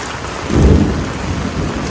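Heavy rain pours loudly and close during a storm, with a deep rumble of thunder swelling near the middle and then fading back under the dense, steady downpour.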